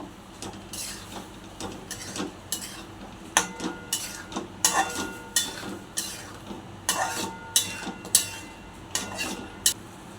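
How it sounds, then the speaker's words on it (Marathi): Drumstick pods being sautéed with tomato in oily masala in a kadhai, with repeated metallic spatula clanks and scrapes against the pan over a faint background sizzle. "शेंगा घालू. मसाल्यामध्ये परतून घेऊ."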